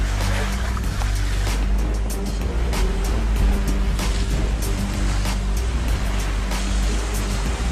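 Steady rushing Mediterranean sea water and surf-like churning fill the scene, with a low motorboat engine rumble running underneath throughout.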